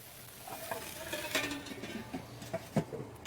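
Steak and asparagus kebabs sizzle steadily on a covered grill, a soft, even crackle with a few louder pops and faint clinks near the end.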